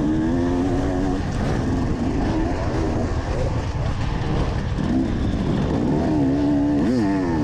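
Several dirt bike engines rev and whine continuously during a woods race, pitch climbing and dropping as riders shift through throttle changes, loud and close with no speech.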